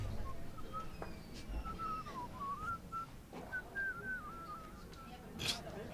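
Someone whistles a wandering, sliding tune at moderate distance, faint against outdoor background noise with scattered knocks.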